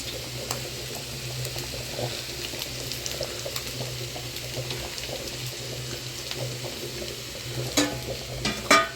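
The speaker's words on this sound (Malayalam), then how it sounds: "തേങ്ങ ഇട്ടാൽ പിന്നെ സ്വാഭാവികമായിട്ടും ഇളക്കണമല്ലോ അതുകൊണ്ട് അങ്ങ് ഇളക്കിയേക്കാം" Grated coconut is stirred in a frying pan, a soft continuous scraping and sizzle with a low steady hum beneath, ending in a few louder clinks of the spoon against the pan; nobody talks.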